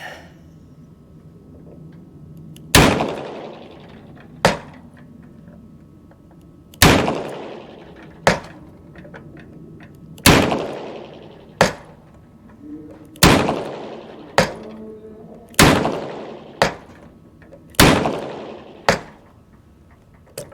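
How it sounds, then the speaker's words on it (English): Double-action revolver shooting at a 50-yard ammo test, with sharp loud reports in an irregular string of about a dozen shots, each with a short echoing decay and quiet pauses between them. "I'm going to shoot it all double action by means of this lever. So we're going to shoot 12 rounds here."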